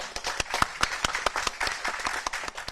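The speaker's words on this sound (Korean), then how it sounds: "우리 권성동 대표님께 우리 모두 박수 한번 좀 쳐드려주셨으면 좋겠습니다" A group applauds Kwon Seong-dong, the ruling party's floor leader, on his last day, with steady rhythmic clapping throughout at a moderate distance.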